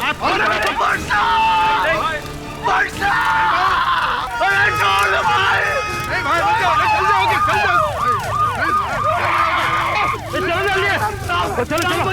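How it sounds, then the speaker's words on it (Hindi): A loud wailing ambulance siren in a TV drama scene, rising and falling repeatedly, close by, with voices and street noise underneath. "गाड़ी है तो एम्बुलेंस है।"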